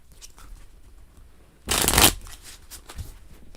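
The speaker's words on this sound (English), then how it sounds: "I shuffle the cards" A deck of tarot cards being shuffled once, a short, close, crisp riffling burst lasting under half a second amid near silence.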